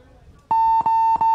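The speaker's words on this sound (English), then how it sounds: "Buzzer hit." A paintball game buzzer sounds at a competitive tournament, a loud sustained electronic tone broken by two brief dropouts as it is pressed repeatedly, close and clear.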